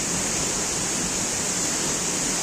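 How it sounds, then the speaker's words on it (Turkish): Constant close roar of the Aktaş waterfall in Akçakoca in winter, dense rushing white-noise water sound holding steady throughout with no voices. "Gördüğünüz gibi çok muhteşem bir şelale."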